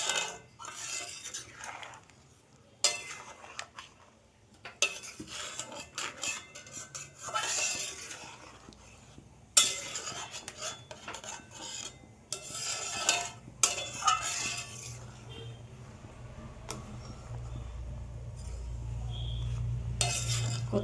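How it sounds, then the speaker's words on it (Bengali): A metal spoon scrapes and clinks against a pan in irregular bursts while mango pulp, milk and pitha are stirred together, with soft sizzling underneath. "নাড়াচাড়া করিয়ে দিচ্ছি।"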